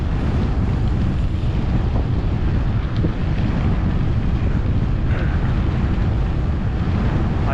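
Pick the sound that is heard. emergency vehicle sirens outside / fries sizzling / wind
wind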